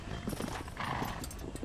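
A horse's hooves clip-clop steadily on the ground at close range in the Western video game Red Dead Redemption, a short, continuous trotting run with no talk over it.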